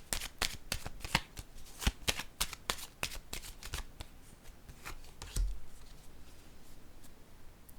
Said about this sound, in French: Je vais déposer une carte sur l'harmonie.